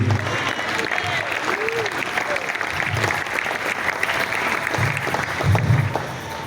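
A church congregation at a Sunday service claps steadily throughout, a dense sustained wash of applause, with voices talking and calling out over it.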